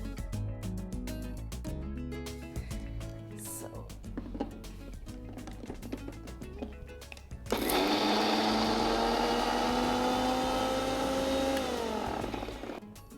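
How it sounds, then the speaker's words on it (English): Moong sprouts and curd are ground in a grinder: a loud whirring motor starts suddenly partway through and runs steadily, preceded by kitchen clatter and a voice speaking. "so I can use that to grind my sprouts"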